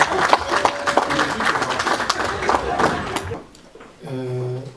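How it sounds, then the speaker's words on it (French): Audience applause and cheers at a tribute gathering in Brussels, a dense burst of clapping and crowd noise for about three seconds that fades out, followed by a voice speaking. "Sous vos acclamations"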